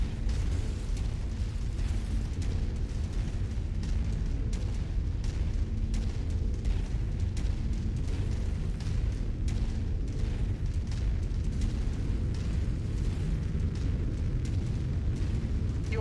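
An artillery fire support strike pounds down in a mech combat video game, a dense, continuous rolling rumble of heavy booms that stays loud and steady throughout with no pauses.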